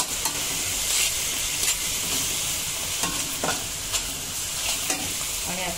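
Soy sauce and black pepper are stirred into spicy Agri-style prawn rice in a hot pan, a steady hiss of frying under repeated spatula scrapes and taps, close and continuous, with no one talking.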